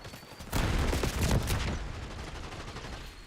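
Bursts of automatic gunfire in the video game Black Ops 6 crackle in a rapid fusillade, loud and dense for about a second before thinning into a lingering rumble.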